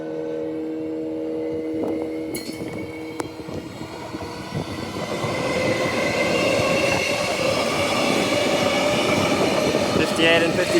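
A C-Series passenger train rolls past close by at Warnbro Station, its rumble building and holding loud, with rail screeching and rhythmic wheel clatter over the tracks.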